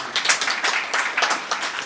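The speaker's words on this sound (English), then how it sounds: "you should applaud" Audience applause at a benefit event, steady rapid clapping from a crowd at moderate volume, filling the short moment without talk.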